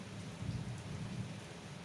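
Steady rain pours outside with a low rumble of thunder running underneath, a constant wash of sound with no talking.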